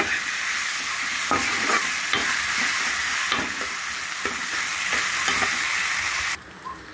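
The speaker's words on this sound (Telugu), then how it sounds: "ఇది పచ్చివాసన పోయేంత వరకు దీన్ని ఫ్రై చేసుకున్నాం" Ginger garlic paste sizzles in a pan with a steady, bright hiss, and occasional scraping stirs break through it. Close and continuous, the sizzle drops off abruptly near the end.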